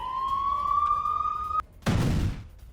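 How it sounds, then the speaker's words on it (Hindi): An air raid siren wails across northern Israel, a steady tone rising slightly, then cutting off abruptly before a loud broadband burst of noise. "पूरे उत्तरी इजराइल में इस वक्त सायरन बज रहे हैं।"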